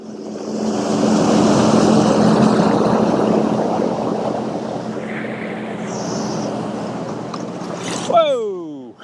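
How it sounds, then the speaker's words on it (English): A motorboat passes on the water with a loud, broad roar that swells, holds and slowly fades amid wind. A voice briefly cuts in at the very end. "Isn't that a pretty boat?"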